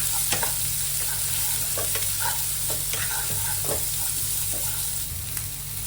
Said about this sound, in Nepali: Green chilli, onion, chop onion यसलाई मजाले सटे गरौँ।